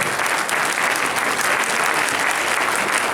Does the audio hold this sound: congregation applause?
yes